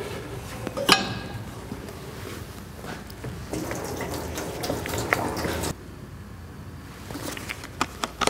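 Metal prep liquid is poured into a 1936 Chevy fuel tank, making a steady splashing and trickling sound with a few sharp clinks. The pour stops partway, leaving quieter drips and handling noises.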